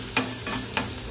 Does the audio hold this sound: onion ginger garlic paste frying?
yes